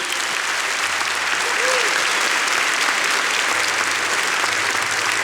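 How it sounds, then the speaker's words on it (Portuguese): Applause from a large church audience fills the space as a steady, even roar of clapping that holds without a break, with faint voices beneath it. "pode aplaudir"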